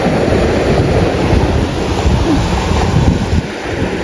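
Surf washes steadily onto a beach as a loud, continuous roar, with wind buffeting the microphone throughout and a brief dip near the end.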